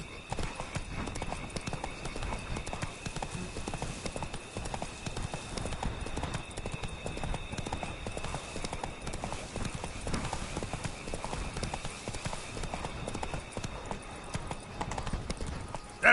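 Geralt's horse Roach gallops in The Witcher 3, a steady, rapid drumming of hooves running throughout at constant loudness over a faint ambient hum.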